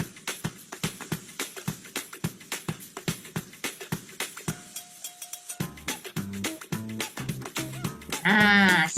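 Goats bleat on an organic aloe vera farm where they roam freely. Several calls stand out over scattered clicks and rustling, and a sharp, bright tone enters near the end.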